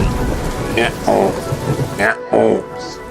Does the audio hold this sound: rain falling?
yes